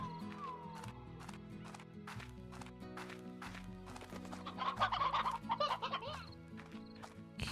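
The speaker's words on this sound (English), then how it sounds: "let's put our roosters here. This will be our hen hens." Hens and roosters cluck repeatedly in the Slime Rancher video game, a busy flock of chatter that grows louder and denser midway, layered over steady background game music.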